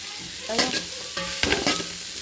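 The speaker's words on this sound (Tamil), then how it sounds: "நல்லா கொஞ்சம் கிளறி விட்டுக்கலாம்." Capsicum, carrot and cabbage frying for veg fried rice, stirred with a ladle so that a close, steady sizzle is broken by several sharp metallic scrapes and clinks against the pan.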